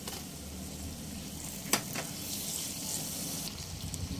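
Chopped tomatoes and green chillies sizzle steadily in a hot pan, a soft, even crackle with a single metallic clank of a utensil partway through.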